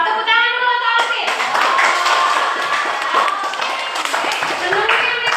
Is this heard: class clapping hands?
yes